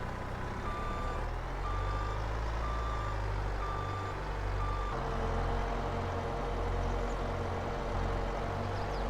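A skid steer in Farming Simulator 22 sounds repeated reversing beeps at an even pace over a steady engine drone, close and loud with no voices.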